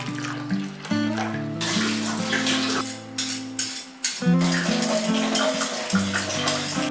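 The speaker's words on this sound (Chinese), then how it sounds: "5颗银耳用温开水泡发。" Warm water pours into a bowl over five dried white fungus pieces to soak them, a continuous close splashing stream with background music tones underneath.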